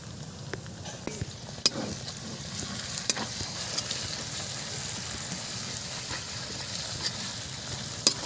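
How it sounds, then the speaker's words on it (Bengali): Cumin and coriander paste mixed with cashew, raisin and poppy seed paste fries over low heat for a shol fish korma: a steady close sizzle with occasional light clicks of a utensil against the pan. "হালকা আঁচে ভাজা হবে এগুলো।"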